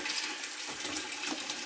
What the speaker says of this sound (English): Okay, we're gonna put some water in.